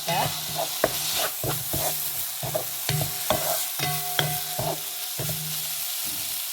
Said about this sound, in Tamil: திறந்து இப்படி கலந்து விடுவோம்